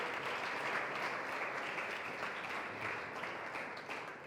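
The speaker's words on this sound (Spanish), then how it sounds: "Dale un fuerte aplauso al Espíritu." A church congregation claps in strong, continuous applause for the Holy Spirit during a sermon, a thick wash of many hands at steady volume that tapers slightly at the end.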